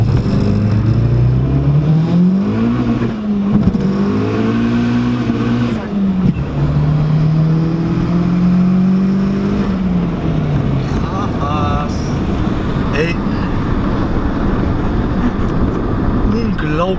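A 400 hp 1.8T VW Lupo launches and accelerates hard, its engine climbing loudly through the revs with gear changes, close and dominant, as people in the car speak over it.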